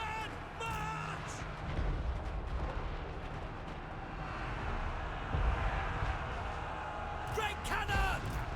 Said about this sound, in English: Great cannon!